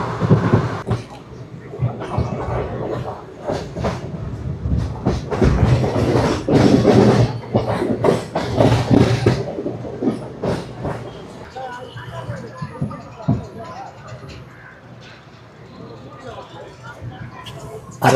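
Tirupati Express running at speed near Arakkonam Junction, a steady rumble and rattle of wheels on rails with clacking bursts, loud and close, fading slightly toward the end, with someone talking over it.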